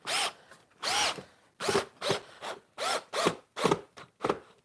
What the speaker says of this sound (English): I'll put some screws in there.